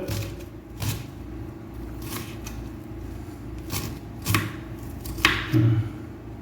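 A knife cuts chicken pieces for a restaurant-style kadai chicken in a kitchen, giving a series of sharp, irregular chopping knocks and scrapes against a board over low background noise.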